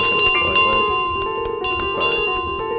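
Goose's bell in Untitled Goose Game jingling repeatedly, a bright metallic ringing shaken in irregular clusters over a steady background tone, close and fairly loud.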